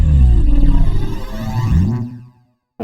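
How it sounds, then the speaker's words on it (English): Laser glider sound-effect preset on the SkannerXT synth, a dense swirling tone with sweeping, shifting harmonics that plays loudly and alone for about two seconds before cutting to silence. "load up like any one of these laser glider presets"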